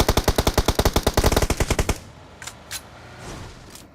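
Rapid automatic gunfire in the game PUBG, a loud burst of about two dozen evenly spaced shots lasting two seconds, followed by a few distant scattered shots in quieter background.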